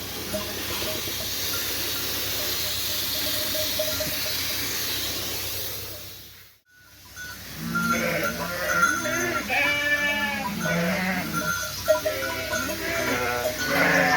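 A black lamb bleats repeatedly in short wavering cries after a stretch of steady hissing noise, fairly close by, in a village setting.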